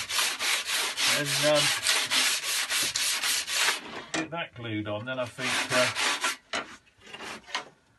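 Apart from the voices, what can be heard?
hand sanding wood on a narrowboat fit-out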